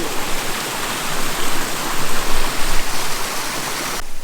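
A small stream at Wang Takhaeng waterfall in Prachinburi rushes and splashes as a steady, close hiss of flowing water, with no voices over it.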